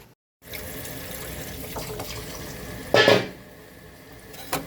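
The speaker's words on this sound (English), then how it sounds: "Now I'll go and wash out the turkey drumstick again" A raw turkey drumstick is rinsed under a running kitchen tap, with a steady stream of water and a short, louder burst of splashing and handling in a bowl partway through.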